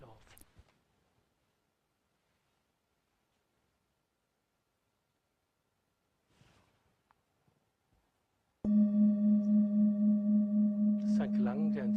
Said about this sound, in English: Now I move the singing bowl to the coccyx and place a second bowl in the neck area.